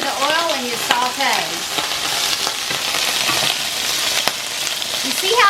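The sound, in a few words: peppers and onions sautéing in hot oil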